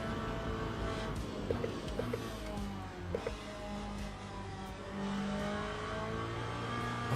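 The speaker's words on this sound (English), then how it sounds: "the engine noise is like not great in this. It's the buzzing." A racing car's engine in Le Mans Ultimate drones with a steady buzzing tone, loud and continuous throughout with slight rises in pitch, no talk over it.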